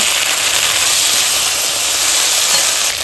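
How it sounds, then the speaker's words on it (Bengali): Chopped tomato hits hot oil spiced with cardamom, ginger and green chilli paste, setting off a loud, steady, close sizzle that holds for a few seconds. "টমেটো কুচিটা দিয়ে দিচ্ছি।"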